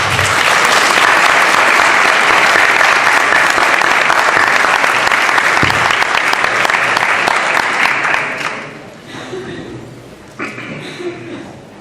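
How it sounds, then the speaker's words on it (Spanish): A hall audience applauds loudly and steadily to welcome a judicial candidate at a criminal procedure code panel. The clapping fades near the end, leaving a few scattered claps and some room murmur. "Si lo podemos recibir con un aplauso"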